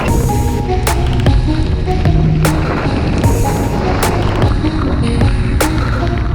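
Heavy rain pours down during an eBike ride on steep ground, a loud, dense, unbroken wash of rain and wind noise with occasional sharp knocks and clicks from the bike, no voices.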